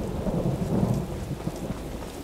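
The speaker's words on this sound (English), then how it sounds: "And by the way, it's raining." Steady rain with rolling thunder in the video game Skyrim, a continuous low rumble and hiss that holds at an even level throughout, heard alone without talk.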